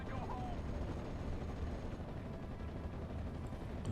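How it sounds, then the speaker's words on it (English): Machine gun fire in the WWII strategy game Steel Division: Normandy 44 rattles in a dense, low, rumbling stream of bursts, steady and moderately distant throughout. "they're continuing to be caught in the open by the machine gun fire"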